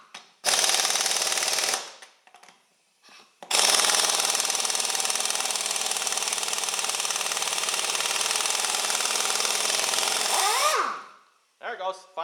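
An Urceri compact impact wrench hammers on a tight nut in two loud bursts, a short one and then a long sustained rattling run of about seven seconds, with brief pauses and a faint voice near the end.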